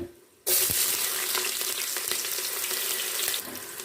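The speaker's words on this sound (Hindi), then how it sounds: "अब इसको हम फ्राई कर लेंगे, प्याज को अच्छे से।" Onions frying in a pan for beef pulao, after cloves, bay leaf and dried chilli have gone into the oil: a loud, steady sizzle bursts in close after a quiet start and crackles on alone, easing slightly near the end.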